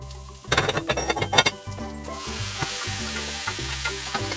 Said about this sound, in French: Maintenant, on va pouvoir rajouter le potimarron qu'on a bien égoutter.